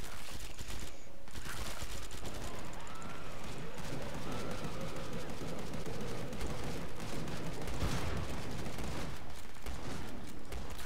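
Sporadic gunfire rattles through a dense battle din in Killing Floor 2, irregular bursts and pops over a constant roar of combat noise, with no clear speech.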